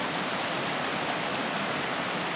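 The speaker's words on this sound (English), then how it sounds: "Pushed a lot of water over." Water surges over a bank in a steady, dense rush, a close, even roar of churning flow that holds without pause and with no voices.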